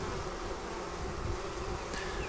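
A honey bee swarm fills the air with a dense, steady buzzing hum, close and continuous throughout with no voices.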